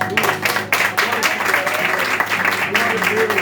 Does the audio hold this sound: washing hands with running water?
no